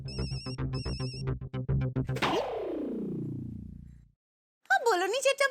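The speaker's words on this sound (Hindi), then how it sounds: "रिंग जा रही है।" Two short electronic ringtone bursts over a busy domestic scene, followed by a loud swooping tone and then a voice.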